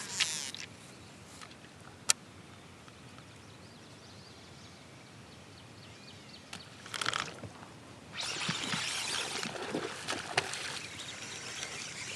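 Faint mosquito buzzing over a quiet outdoor night background, with louder noisy bursts of activity near the end.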